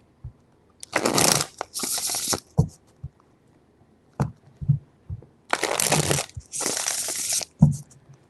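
Tarot cards are shuffled in two distinct rounds, each a burst of crisp riffling and slapping followed by soft taps, close and clear with quiet pauses between.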